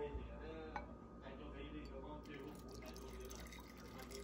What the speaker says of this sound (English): I'm gonna pour this out.